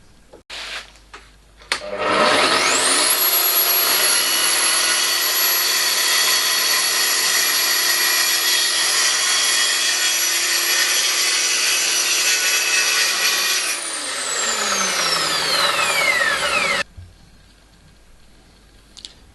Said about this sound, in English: I'll do this by doing some plunge cuts on a piece of scrap ply. I'll go 12mm deep